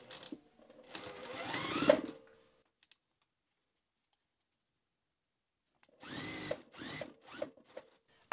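A sewing machine stitches a seam on a zipper pouch in two loud close bursts, a rising whirring run first, then after a long silence several short stop-start runs.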